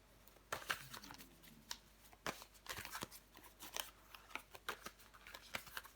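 Tarot cards handled and shuffled, a quiet, close series of crisp riffling snaps and soft paper rustles in irregular bursts, with no talking.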